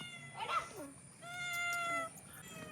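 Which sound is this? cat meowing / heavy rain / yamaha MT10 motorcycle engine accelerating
cat meowing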